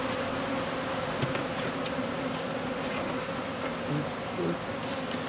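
Honeybees buzzing at a hive as a super box is added during colony work, a dense steady hum that holds throughout at moderate level with no talk over it.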